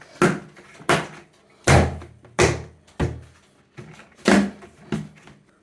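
Lids are pressed shut on fermentation containers of pumpkin wine: eight distinct, fairly loud hollow thunks land in an uneven rhythm, each dying away quickly against a quiet background.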